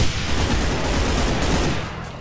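Continuous dense gunfire from the Brutal Doom mod of Ultimate Doom, a loud, steady barrage of shots with no pauses that runs the whole stretch and drops off right at the end.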